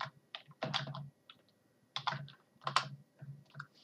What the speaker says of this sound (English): we're going to type in riot gear